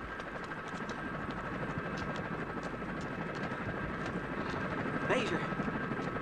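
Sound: helicopter flying, from a 1985 action film

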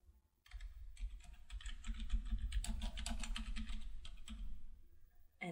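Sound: typing a book title on a computer keyboard

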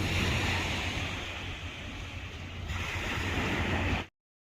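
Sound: sea waves at a beach in Busan, Korea

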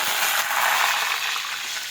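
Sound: mustard seeds, cumin, garlic, chilies frying in hot oil

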